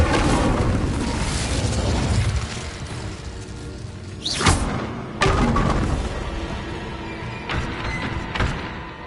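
Spell blasts in Hogwarts Legacy: a dense rumbling wash of explosive crackle, then a sharp burst near the middle followed by a few separate, loud impacts and fading booms.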